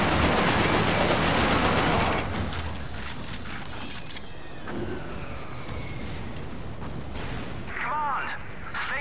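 Mortar and artillery fire in the shooter game Resistance: Fall of Man, a loud dense barrage of blasts and rumble that eases after a couple of seconds into a steady battle din with voices talking over it.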